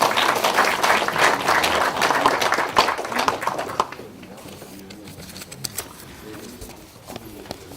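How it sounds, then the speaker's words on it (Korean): An audience at a Liberty Korea Party caucus meeting welcomes the party leader with a burst of applause that is dense at first, then drops off into scattered claps and room noise. "다시 큰 박수로 환영해 주시기 바랍니다"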